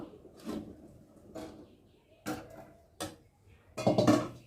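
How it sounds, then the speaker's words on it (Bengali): A cooked pot of rice lifted off a home stove, heard as a series of separate metallic clanks and scrapes of the pot against the burner, close and fairly quiet, with a louder cluster of knocks at the end. "আর ভাতটা এখন আমি নামিয়ে নেব"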